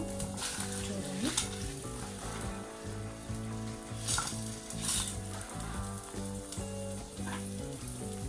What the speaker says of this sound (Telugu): ఇలా దాల్చిని ఇవన్నీ వేసేసుకొని మనం ఒకసారి వేయించుకోవాలి